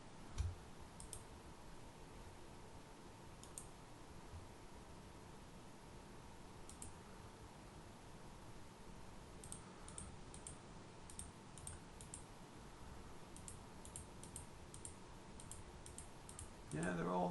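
Computer mouse clicking while working through a loft model in Autodesk Inventor, faint scattered clicks in irregular bursts over a steady low hum, with a brief louder noise at the very end.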